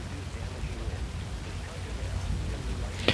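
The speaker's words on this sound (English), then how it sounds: "We're just punching through the hail core right now. Large hail damage to my vehicle." Large hail pelting a vehicle while it drives through the hail core of a destructive tornado, a dense, loud, continuous drumming on the car body with one sharper impact near the end.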